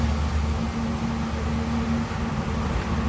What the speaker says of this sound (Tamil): மற்ற வண்டிங்க போற சவுண்டும் கூட அதிகமா கேக்குது